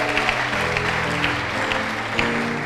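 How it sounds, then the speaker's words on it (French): Conference audience applauding and cheering for a guest preacher, a dense steady wash of clapping with a few louder bursts, close and continuous throughout. "on peut acclamer pour l'homme de Dieu"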